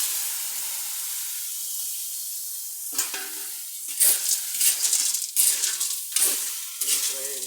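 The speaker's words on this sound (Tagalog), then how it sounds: "At igigisa na muna natin ang suso." Snails are sautéed with garlic in a pan. A soft, steady frying hiss comes first, then sharp bursts of stirring, scraping and sizzling with metallic clinks, close by and with no voices.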